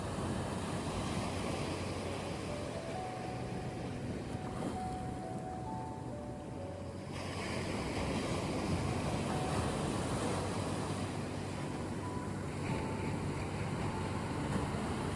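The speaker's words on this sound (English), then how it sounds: "The sound of the waves" Ocean waves wash and surge continuously with a steady, fairly soft roar and some wind noise, a gentle swell easing mid-way before building again, with no voices.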